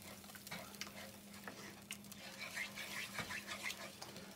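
A wooden spoon stirs gravy in a pan to work out the lumps, making faint soft scraping and light taps over a quiet background hum.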